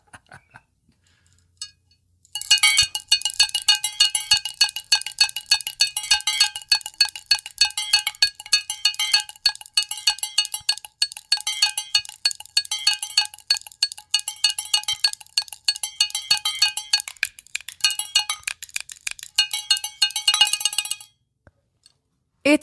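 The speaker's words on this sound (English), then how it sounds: "Usually there's a lot to make the shaker sound, but this one only has one." Handmade shaker holding a single object inside rattles in rapid, bright clicking bursts, shaken steadily for about twenty seconds, close and fairly loud, with short quiet gaps before and after.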